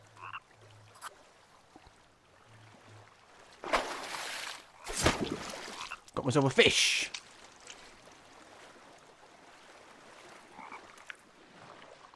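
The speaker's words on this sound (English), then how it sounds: "I hear a frog." Frog croaking in the video game The Forest: a few short, low croaks early on, soft and set apart, with someone talking and louder splashing and rustling bursts in the middle.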